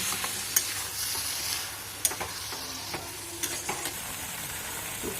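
Flat beans and mung dal cook in a pan, a steady, quiet sizzle with occasional sharp clicks of a spatula stirring against the pan.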